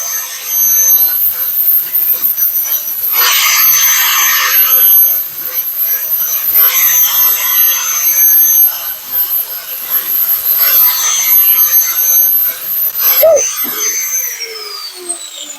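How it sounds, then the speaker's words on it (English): An angle grinder fitted with a coarse 36-grit flap wheel grinds metal in loud, harsh bursts of a few seconds each, with short pauses between them, close and dominant throughout. "Grab the other grinder. With a 36 on it. 36 flapper wheel, that is."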